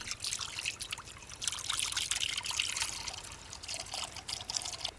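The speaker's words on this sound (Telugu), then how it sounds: "ఇప్పుడు ఇందులోనే బూందీ వేయించుకోవడానికి సరిపడా నూనె వేసుకుందాం" Cooking oil poured into a pan to fry boondi for temple-style laddu, a steady, moderately loud trickling stream that runs throughout, with no talking.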